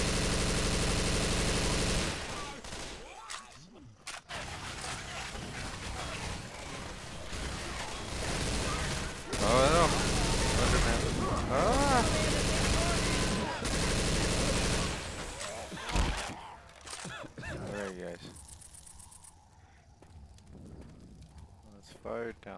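Rapid bursts of automatic gunfire in a zombie shooter video game, clattering almost continuously for much of the stretch with brief pauses, while players shout to each other over the fight.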